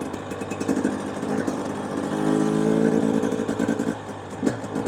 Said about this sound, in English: this bike's got some rip to it.